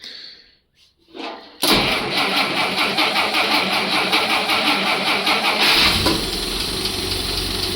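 An old vehicle engine, running for the first time in 50 years, cranks and catches, then idles loud and steady up close, dropping slightly in level near the end.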